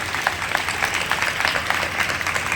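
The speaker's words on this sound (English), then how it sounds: "A big round of applause to you guys" Applause from an audience at a school investiture ceremony, a steady dense wash of many hands clapping throughout, moderately loud and sustained with no talk over it.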